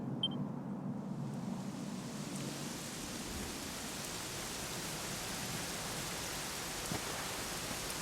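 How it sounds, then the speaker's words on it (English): Steady rain falls in a Dragon Quest XI game cutscene, a soft, even hiss of drops that continues throughout without pause, with a faint low rumble at the start. "it was raining like this the last time I ever saw her"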